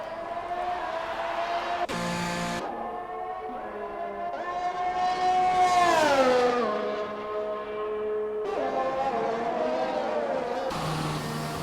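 Race car engine in a racing video game on the Bahrain circuit, a steady high-pitched whine rising and falling through gear changes, loud and continuous, with a few abrupt cuts in the sound.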